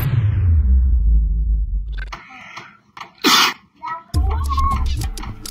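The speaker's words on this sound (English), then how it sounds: "I cannot stop sneezing." A single loud sneeze bursts out amid rustling and shuffling, with some voiced sounds around it.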